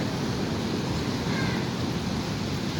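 Steady broadband roar of sea surf at a windy, nearly empty Kerala beach, continuous and fairly loud with wind noise blending in, no voices.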